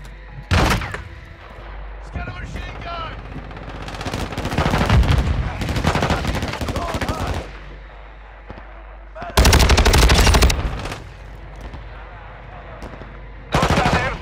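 Automatic machine gun fire in Call of Duty: Modern Warfare II, loud bursts of rapid shots recurring across the clip, with heavy barrages near the start, middle and end, separated by quieter stretches of background game noise.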